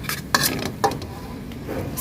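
A utensil stirs braised eggs in a pan over the gas, scraping and clinking a few times against the metal with a soft sizzle beneath, close and moderately quiet, with no talking.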